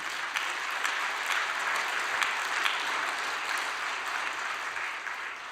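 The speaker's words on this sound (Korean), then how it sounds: "우리 영성 수련생을 위해 여러분 박수 한번 올려드리겠습니다." Steady applause from an audience gathered for a talk, dense and sustained at an even level for several seconds without voices.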